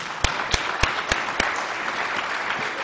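An audience at a Drupal conference claps. Five sharp, evenly spaced solo claps ring out first, then merge into a softer, continuous wash of applause from the crowd.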